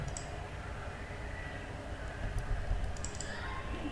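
Soft keyboard typing and mouse clicks on a computer running AutoCAD, faint scattered taps over a constant background hum, with no talking.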